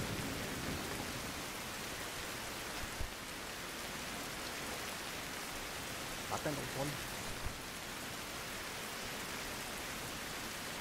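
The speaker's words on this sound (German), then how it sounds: "Gewitter" Steady rain from a thunderstorm in the survival game Survival: Fountain of Youth hisses evenly throughout, with faint low rumbles and a brief spoken phrase over it.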